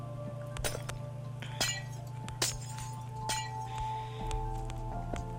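Glass blocks placed in Minecraft Bedrock Edition, heard as sharp, bright glassy clinks scattered unevenly over a steady low background hum.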